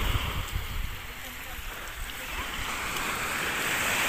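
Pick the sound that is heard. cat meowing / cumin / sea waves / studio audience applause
sea waves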